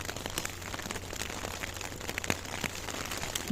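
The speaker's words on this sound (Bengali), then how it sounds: "ঘুরে ঘুরে বৃষ্টি।" Heavy, shifting rain showers in cold Saudi Arabian weather make a constant close hiss of drops striking surfaces, with scattered louder individual impacts and no talking.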